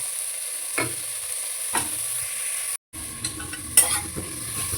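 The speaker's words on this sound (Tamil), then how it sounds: "இஞ்சி பூண்டு பேஸ்ட் போட்டோன்னே தக்காளியும் போட்டு வதங்கணும்" Onion, ginger garlic paste and tomato sautéing in a pan for vegetable biryani, a steady sizzle with a few sharp spoon scrapes and clinks, one brief cut to silence midway, no voices.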